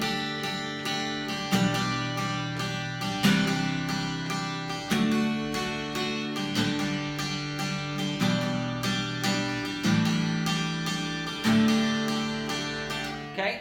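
A guitar is strummed with upstrokes in an offbeat syncopated rhythm, steady and moderately loud, chords repeating in a looping pattern with no talking over it.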